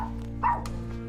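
A dog gives a single short bark, close and moderately loud, over a steady hum of background music.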